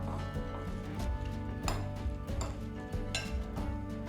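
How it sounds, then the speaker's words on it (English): Avocado, chickpea and tomato salad tossed in a bowl, with repeated clinks and knocks of a utensil against the dish and a soft wet shuffle of ingredients, close and fairly loud, nobody speaking. "Now we're gonna give it a bit of a mix, just to help all the flavors to mix together."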